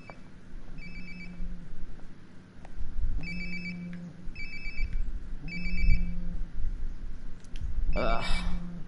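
A cell phone rings repeatedly in Life is Strange: Before the Storm, a recurring electronic ringtone pattern that comes in short bursts over a low background hum, moderately loud and nearby.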